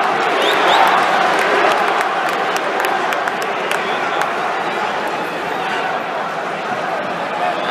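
Boxing crowd at the Bernard Hopkins vs Sergey Kovalev fight cheering and clapping, a loud dense roar with scattered sharp claps, steady throughout with a commentator talking over it.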